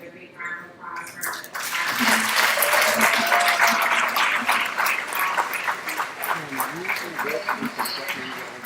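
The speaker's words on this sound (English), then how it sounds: "I want everybody to give a big round of applause for" A large audience at a children's policy plenary bursts into applause after a short pause, dense clapping swelling quickly and holding strong before gradually thinning into scattered claps, with faint voices mixed in.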